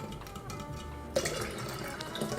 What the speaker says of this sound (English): And then you just add a bunch of water to cool it down and stretch it.